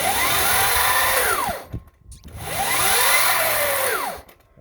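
A Sur-Ron electric motorbike's rear wheel spins up under throttle twice, each time a rising motor whine that falls as it slows, close and loud with brief quiet gaps between.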